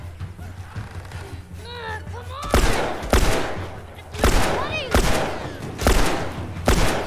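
Loud gunfire bursts in the video game The Last of Us, several heavy blasts spaced about a second apart over game ambience, with a player talking over the action.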